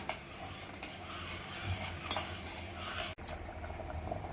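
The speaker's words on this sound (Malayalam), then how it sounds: "ഇത് നല്ലോണം ഇളക്കി മിക്സ് ചെയ്ത് വീണ്ടും തിളപ്പിക്കാം." Second coconut milk stirred into a pot of whole wheat payasam, a soft steady swirl of liquid with faint scrapes of a spoon against the pan, quiet and alone.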